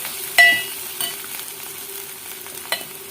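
Tempering for rasam sizzling in hot oil, with a soft steady fizz under a sharp clink near the start and a few scattered stirring knocks.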